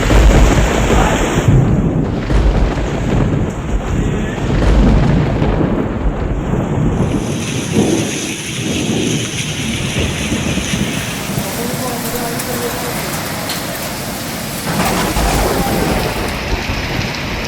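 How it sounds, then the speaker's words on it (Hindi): Heavy pre-monsoon downpour in Lahore with rolling thunder, a loud steady wash of rain throughout and deep rumbling bursts in the first half, fading into continuous hiss. "लाहौर में मूसलाधार बारिश"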